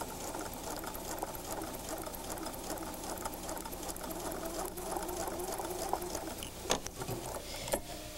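A sewing machine runs steadily while stitching quilt fabric for a log cabin block, a continuous fast whirring hum across the whole stretch, with a couple of sharp clicks near the end.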